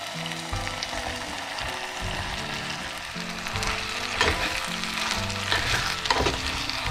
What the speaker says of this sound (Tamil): இனி நாங்கள் வெட்டின கத்திரிக்காயை இதோட சேர்த்து கொஞ்சம் வதங்கி விடுவோம்